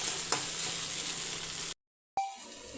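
Ingredients sautéing over low heat in a pan while making drumstick leaf powder, a steady close sizzle and frying hiss that cuts to silence near the end, then resumes more quietly.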